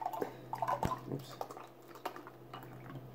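High Branch Peach Hill beer pours from a can into a glass, a faint close trickle of liquid with soft gurgles and fizzy splashes, heard alone and quiet.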